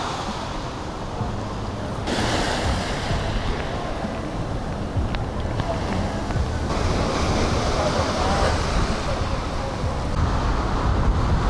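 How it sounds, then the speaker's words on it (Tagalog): Strong, rough ocean waves crash continuously onto a beach, a loud, close roar of surf with wind gusting against the microphone. "Grabe yung alon, no?"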